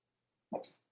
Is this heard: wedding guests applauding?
no